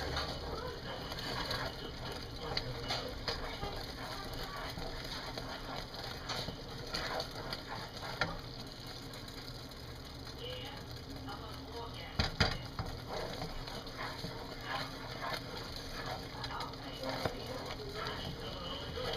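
A spoon stirring thick cooking fudge in a pot gives a steady scraping, churning texture for the whole stretch, with occasional sharper knocks against the pot.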